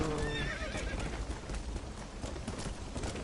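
A horse's hooves clip-clop steadily in Red Dead Redemption, opening with a whinny. The hoofbeats continue as a quick, moderately close rhythm over a low ambient bed.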